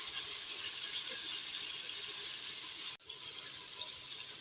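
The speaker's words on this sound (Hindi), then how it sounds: "अब इसमें मैं डाल दूँगी थोड़ा सा पानी" Water poured into a pan of fried onion, garlic and ginger paste gives a steady, bright hiss and gush that cuts off abruptly near the end, then resumes more softly.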